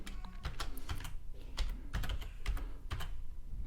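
Fast, steady typing on a computer keyboard while entering a new password during a Windows Server 2019 setup: dense, close key clicks in an even rhythm with no talk.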